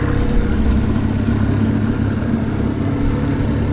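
A boat fitted with a 1980s outboard motor runs steadily while being brought in to park at a harbor float, a close, constant mid-pitched engine drone with no talking.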